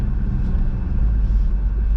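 Aston Martin Vantage GT8 sitting at idle, its engine giving a steady, deep low rumble that holds evenly throughout with no revving and no voices.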